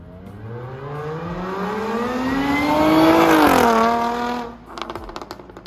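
Jaguar F-Type exhaust fitted with an X-pipe, a single loud rev climbing to a high, exotic race-car-like pitch around three seconds, then dropping off into a rough, crackling idle.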